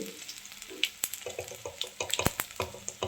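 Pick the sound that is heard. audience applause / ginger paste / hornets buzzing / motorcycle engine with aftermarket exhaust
ginger paste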